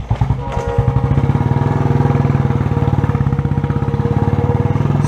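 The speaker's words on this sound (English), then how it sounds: "So the vlog's gonna be on this Royal Enfield." A Royal Enfield motorcycle with a new exhaust idles up close, its loud, steady thumping pulse settling into an even beat after a slightly uneven start.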